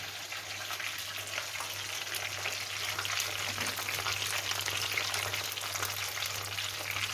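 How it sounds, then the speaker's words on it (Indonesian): Eggplant slices fry in hot oil, giving a steady, dense sizzle with fine crackling pops that keep on at an even, close level throughout. "Terakhir kita punya yang patlıcan alias terong. Nih, kita goreng dulu yang itu."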